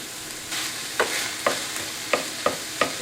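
Browning beef with onions and garlic stirred in a pan, an even sizzle punctuated by five or six regular spatula scrapes roughly half a second apart, close up and without talk.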